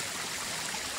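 Water rushes down a waterfall beside a mountain trail in New Hampshire, a close, steady broadband roar with no break over a brief moment.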